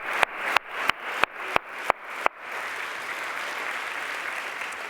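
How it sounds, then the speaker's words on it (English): Sharp, rhythmic claps ring out at the Nansen Refugee Award Ceremony, seven loud evenly spaced hits, then a broad, steady wave of audience applause fills the hall. "give yourselves a round of applause"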